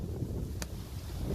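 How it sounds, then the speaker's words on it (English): Wind blows outdoors across a microphone, a low, uneven rumble and buffeting that swells and eases, with one brief sharp click near the middle and no speech. "Sure it's awfully windy."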